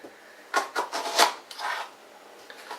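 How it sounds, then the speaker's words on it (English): Vegetables being roughly chopped for a blended curry soup in a cottage kitchen, giving irregular knife strokes and scraping against a wooden board, fairly close and moderately loud, with no talking. "You don't have to be accurate when you're chopping"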